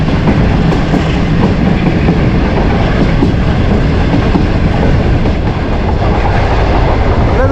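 The Shalimar Express passenger train, running at speed out of Lahore, gives a loud, steady rumble with rapid clattering of wheels over rail joints and rattling carriages throughout.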